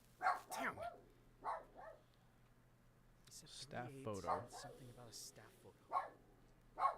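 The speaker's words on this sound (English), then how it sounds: "Yeah, you can hear the dog." Dog barks in a video game sound off in several short bursts spread through the stretch, mixed closely with speech over a steady low electrical hum.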